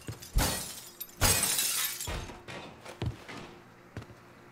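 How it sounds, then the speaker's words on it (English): Glass shatters repeatedly in Mafia III, several sharp crashes spread irregularly over a few seconds, the biggest two early and loudest, followed by tinkling debris and smaller impacts. "Now, let's break some more glass."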